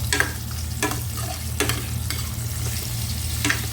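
Chicken adobo and onions are stirred in a pan with a steady sizzle. A spoon scrapes and clacks at regular intervals, with no talking.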